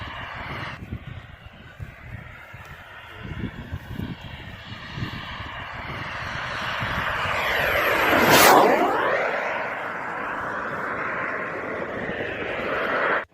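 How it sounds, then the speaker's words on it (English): A sailplane glider makes a low pass over an airfield in Poland, a steady rushing drone swelling to a loud peak as it passes close by and then easing away, heard alone without voices. "This amazing sailplane glider shows an impressive low pass over the airfield in Poland."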